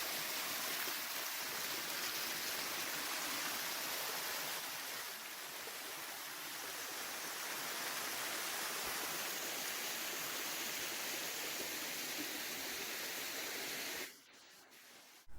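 A small, cold mountain stream in Santa Catarina, Brazil, rushes in a constant, close, full hiss of flowing water that ends abruptly near the close.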